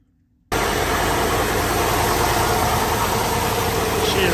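A turbocharged Chevrolet Suburban engine bursts into life after a brief silence, then runs at a steady, loud idle with a continuous rumbling drone, close by and alone.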